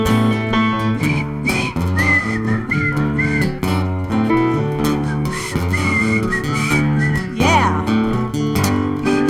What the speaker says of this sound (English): Can you whistle? Anybody whistling?